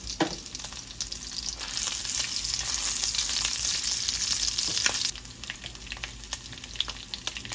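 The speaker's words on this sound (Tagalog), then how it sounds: "Igisa lang natin to hanggang lumabas yung sarili niyang mantika" Chicken fat trimmings sizzle and fry steadily in a pan with black pepper and bay leaves, a dense close crackle that swells, then eases slightly after a few seconds, with occasional sharper pops and no talking.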